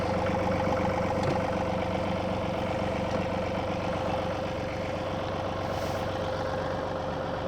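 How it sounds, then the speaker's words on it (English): A John Deere 2 Series compact utility tractor's engine idles steadily nearby, a constant loud rumbling drone with no change in pitch and no voices. "Start up the tractor."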